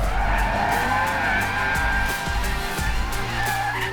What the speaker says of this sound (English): I'll go full drift mode